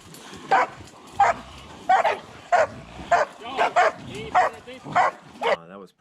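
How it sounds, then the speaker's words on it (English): A hunting dog on a hog hunt barks loudly and close by, about nine sharp barks in an even rhythm, with whimpering yips between them. "Get your house dog out of here."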